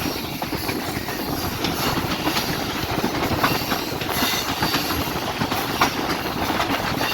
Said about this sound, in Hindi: यहाँ पे लोकोमोटिव कर्व में जा रहा है।